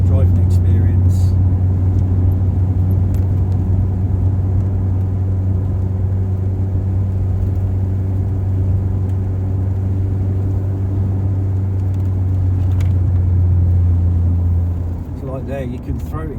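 A Saab 900i car driving on a quiet road, with a steady low engine drone and road rumble that holds evenly throughout and eases slightly near the end, with speech faintly present.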